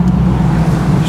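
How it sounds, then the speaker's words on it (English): A street truck drives past, a steady low engine rumble holding at close range through the moment with no clear rise or fade. "Street truck."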